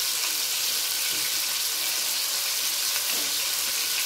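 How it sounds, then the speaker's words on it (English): Homemade meatballs made with fresh mint, cheese, salt and pepper browning in a frying pan, a steady loud hiss and sizzle with no break. "just gonna brown them off and then cook them down in tomato sauce"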